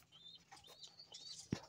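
Pigeons in their coop give faint, soft chirps and calls, a few thin notes scattered across a quiet background, with one brief sharp knock near the end.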